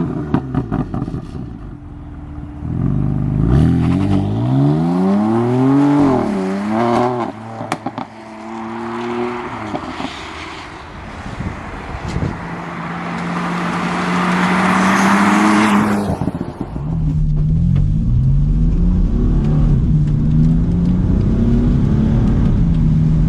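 BMW M4 with a Bootmod3 stage 1 tune, engine and exhaust roaring through repeated revving gear pulls on country lanes, rising and falling in pitch with sharp shifts, passing close and loud, then settling into a steady cruise.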